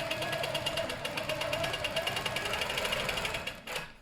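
A Handi Quilter Studio longarm quilting machine on a Studio 2 frame stitches along a quilt edge with a fast, even mechanical chatter, close and steady, before stopping abruptly near the end.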